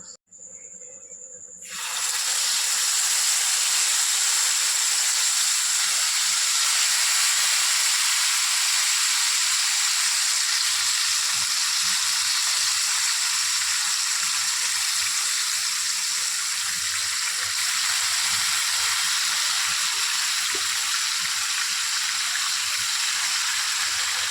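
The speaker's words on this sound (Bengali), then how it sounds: "এবার আমি মাংসগুলোকে একটা একটা করে ভেজে নেব।" Marinated chicken chaap pieces drop into hot oil in a wok, bursting into a loud, continuous sizzling hiss that holds steady up close, with no talking.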